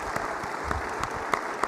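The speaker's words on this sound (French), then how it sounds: "je voulais peut-être demander à toute notre Assemblée de vous applaudir" A French municipal assembly applauds, producing a soft, distant wash of clapping that continues evenly without voices.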